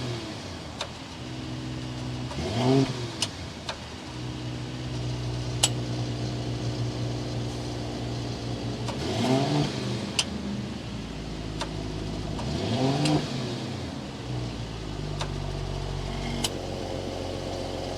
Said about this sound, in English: Let's see how that exhaust sounds from the exterior.